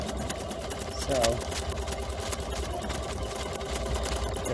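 An embroidery machine stitches a quilt label with a steady, fast mechanical hum and rapid needle rhythm throughout, and a voice speaks briefly over it.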